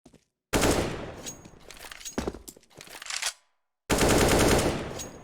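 A weapon fired while moving in a shooter video game, loud close automatic bursts of rapid shots that start, break off into scattered cracks, pause in silence, then resume with another sustained burst.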